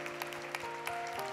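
A church youth congregation in Korea claps for members born in 1998, a short stretch of steady applause over a faint sustained musical tone in the background.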